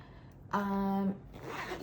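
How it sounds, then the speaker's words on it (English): A zipper on the pocket of a Chanel lambskin wallet on chain is pulled in one quick, close, buzzing stroke lasting about half a second, with quiet rustling before and after. "there's that secret zipper pocket that generally you can't actually fit much"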